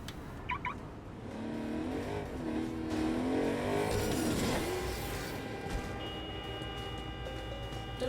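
A summoned car in the game Agents of Mayhem pulls up and drives off, its engine rising and revving in a swelling whoosh before settling into a steady hum, fairly loud and close, with no voices.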